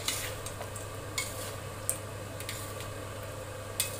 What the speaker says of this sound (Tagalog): Halu-haluin natin mga idol.